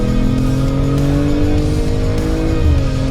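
BMW M440i under way, a loud continuous engine drone with shifting tonal harmonics as revs rise and fall, heard close from inside the cabin with no talking.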